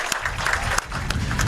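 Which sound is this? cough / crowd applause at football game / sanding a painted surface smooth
crowd applause at football game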